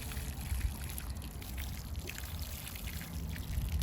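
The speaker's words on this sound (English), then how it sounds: "once everything's planted, give it a nice drink of water" Water is poured onto newly planted bare root perennials and native plants, a soft, faint, steady trickle and splash continuing close by without pause.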